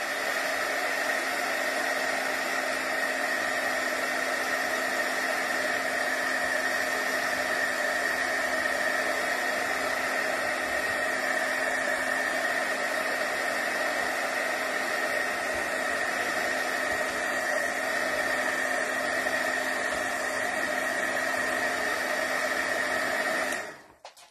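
Dryer blowing steadily to dry a ribbon, a loud continuous whooshing hum with a constant tone that runs unbroken and cuts off at the very end.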